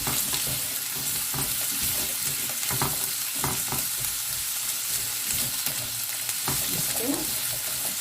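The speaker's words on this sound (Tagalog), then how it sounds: "Lagay ko ang aking onions" Onions frying in a pan over high heat give a steady, loud sizzle and crackle throughout, with occasional sharper spits and stirring scrapes.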